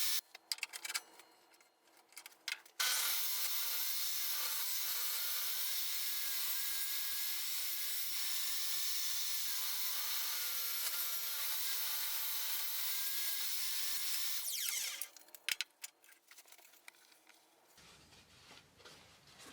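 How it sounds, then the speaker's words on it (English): Steady, rasping saw cutting through thin wood for about twelve seconds, bracketed by brief handling knocks and scrapes before and after. "Then I cut some thin strips for the sides of the box"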